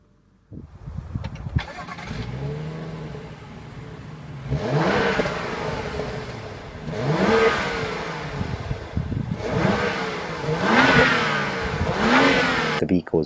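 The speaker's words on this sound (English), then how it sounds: "to start the engine, all we have to do is push a foot down the brake and press the start button right here." A 2014 BMW 535i is push-button started, the engine cranking and catching with a flare, then settling to idle between three rising revs, recorded nearby with no talking.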